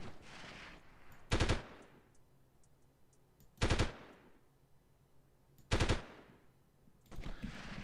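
Sniper gunfire in the 1998 Delta Force video game, three loud single shots spaced about two seconds apart with a ringing tail, plus another shot at the end, with no talking.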